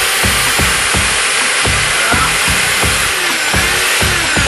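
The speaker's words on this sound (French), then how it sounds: "il faut appuyer fortement sur la perceuse quand même, pour sinon forcément vous ne ferez pas de trou" An electric drill bores a hole for a pipe, pressed hard into the material: a loud, steady motor whine with a rapid, regular grinding judder throughout, close up and alone.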